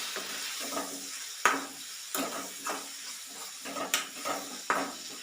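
Coriander, turmeric and garam masala powders frying in oil in a pan while a spoon stirs them: a steady close sizzle broken by repeated scraping strokes roughly every second, with no talking.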